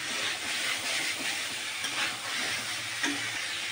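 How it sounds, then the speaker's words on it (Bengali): Chicken and chickpeas stir-fried together in a pan give a steady, dense sizzle with faint scraping from stirring, close and continuous, with no talking. "এখন আমি এগুলো সবগুলোকে একসঙ্গে কষাতে থাকবো।"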